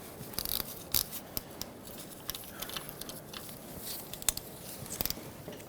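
Ratchet tightening the bottom bolt on the starter of a 2000-2007 Ford Taurus 3.0L V6, quiet, quick clicking strokes in short irregular bursts, close by, with no talking.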